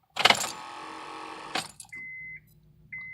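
Rapid clicking from a 2005 Honda Accord that won't start as the key is turned, two bursts of dense clicks followed by steady electronic chimes from the dashboard, close and clear with no talking.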